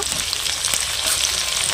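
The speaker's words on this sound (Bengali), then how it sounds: "দিয়ে কাঁঠালের আটি আর লঙ্কাগুলো দিয়ে ভেজে নেব" Jackfruit seeds and green chillies fry in hot oil in a pan, giving a steady close-up sizzle and crackle throughout with no talking.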